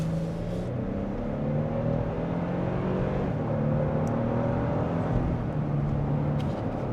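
A 2025 Toyota Tundra TRD Rally pickup accelerates at full throttle, with a steady engine drone climbing gradually in pitch under a broad rush of road and wind noise, heard from inside the cab with no talking.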